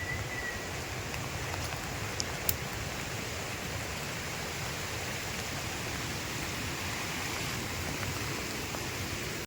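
Steady, even hiss of rain falling continuously, broadband and unbroken, with a couple of faint high chirps briefly poking through early on.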